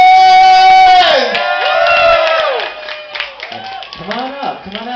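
Crowd cheering, whooping and clapping at a fashion show in Sullivan Hall, loud and close, with shouting voices over steady applause as a model is introduced.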